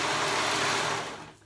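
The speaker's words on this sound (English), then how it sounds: "I'm gonna sew those together" A sewing machine runs in one continuous whirring burst while stitching the sides of a short jumper sleeve, close and steady before tapering off at the end.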